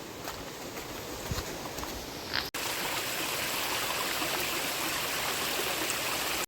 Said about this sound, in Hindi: तो इस झरने से तो हमारी रोज़ मुलाकात होती ही है